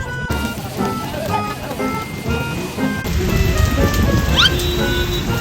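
Light rain falls during a typhoon, a continuous patter mixed with street noise outdoors. A faint high tone slides briefly near the end, and the wash grows slightly denser in the second half.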